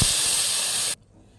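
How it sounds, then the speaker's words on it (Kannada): Mashed tomato dropped into hot oil for tomato rasam, a loud close burst of steamy hissing sizzle that holds steady for about a second, then cuts off abruptly into near silence. "ಫ್ರೆಂಡ್ಸ್, ನಾವೇನು ಟೊಮೊಟೊ ಕಿವುಚಿಟ್ಟಿದ್ದೋ ಅದನ್ನು ಹಾಕ್ಕೊಳ್ಳಿ."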